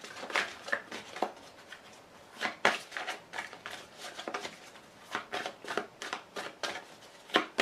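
Playing cards are drawn and handled during a reading, making a close, steady run of crisp flicks, slides and light slaps in irregular quick bursts, with no talking.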